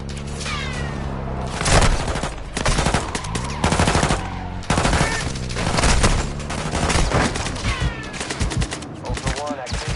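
Call of Duty video game gunfire, rapid automatic bursts and single shots with booms, loud and dense, mixed with game radio chatter and other voices in the clip.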